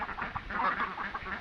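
A flock of white Pekin ducks quacks in a busy, overlapping chorus, with repeated nasal calls at moderate distance and fairly low volume throughout.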